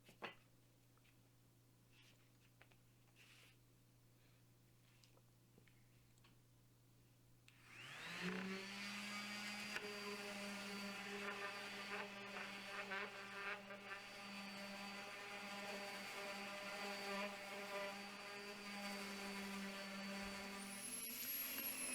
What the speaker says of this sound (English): sand it at a 5-degree angle to soften up the edges